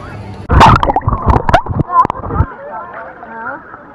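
Water sloshes and splashes in a few quick bursts close by as someone paddles at Blackpool beach, then fades into a background of distant voices and open-air ambience.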